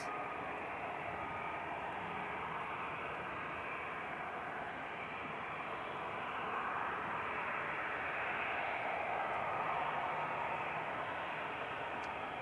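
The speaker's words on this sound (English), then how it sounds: "Next lineup is Sun Express TC SME. It's going to Dalaman." A SunExpress Boeing 737 Max 8 lines up on the runway at Manchester Airport, a faint distant steady jet engine rumble that swells slightly toward the end, with no voices.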